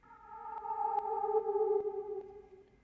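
A detuned synth pad with a black hole reverb plays a sustained tone with soft harmonics that swell in, hold with a slight wavering bend, then fade out over a few seconds. It sits alone and fairly quiet, with faint clicks along the way.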